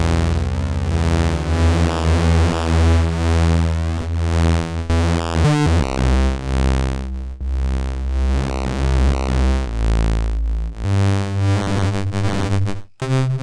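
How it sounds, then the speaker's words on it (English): Thick analog synth drone from a Behringer Kobol Expander with two oscillators layered, sustained notes shifting pitch and timbre over a long passage, loud and without speech. "So we bring another oscillator in."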